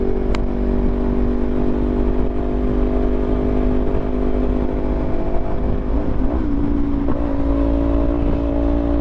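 A Sinnis Terrain 380 budget touring motorcycle's engine drones steadily while being ridden briskly, a loud continuous hum with wind rush, the pitch shifting slightly as the rider works the throttle.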